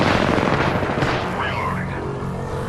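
Gunfire in the video game Apex Legends: loud, dense bursts of shots and booms packed close together over a continuous rumble, with game voice lines mixed in.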